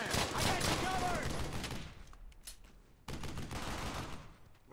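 Gunfire in the World War II shooter Brothers in Arms: Hell's Highway, dense bursts of shots under shouting voices, fading for a moment and then firing again.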